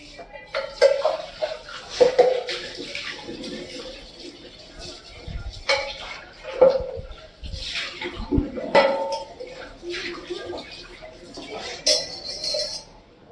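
Dishes clatter as a pot is scrubbed with cold drink and Colgate toothpaste under running water, with repeated clinks and scraping close by while a voice talks over it.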